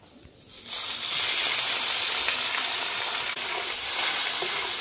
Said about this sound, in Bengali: ভাপা ডিমটা এবার ভেজে নেব।